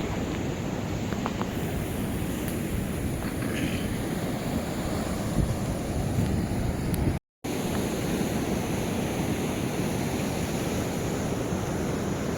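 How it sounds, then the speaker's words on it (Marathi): Sea waves break steadily on Purnagad beach below the fort walls, a continuous broadband wash of surf with wind rumble, loud and constant with one brief dropout midway and no voices. "इथे ज्या लाटा फेकल्या जातात किनाऱ्यावर"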